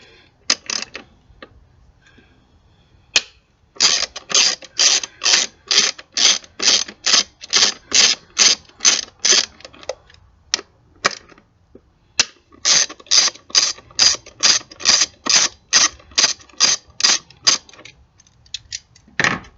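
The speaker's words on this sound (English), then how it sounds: "So to start with, we need to remove the bolts from one of the coil packs." A socket ratchet loosening the bolts on a car's ignition coil pack makes quick, loud, close clicking bursts in long regular runs, with two brief pauses between them.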